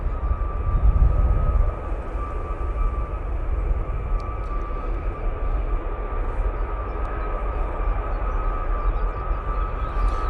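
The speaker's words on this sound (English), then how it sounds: "It is the air tanker. They're testing the engines at the moment, so you can probably hear it." An air tanker at Manchester Airport runs its engines during a test, giving a steady, loud, broadband roar with a sustained whine that holds for about ten seconds, with a slight swell near the start.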